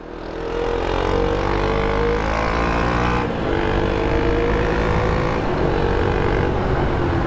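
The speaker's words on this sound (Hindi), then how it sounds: "कड़ाके की गर्मी में चला रहे हैं ड्यूक 200" A KTM Duke 200 BS3 motorcycle with a 200 cc engine is ridden in summer heat, its engine droning loud and steady with rising revs and an audible gear change partway through.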